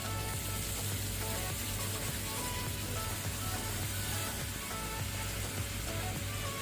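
Chicken masala frying in a pan as coconut milk goes in, a dense, steady, loud sizzle that crackles evenly throughout with no talk.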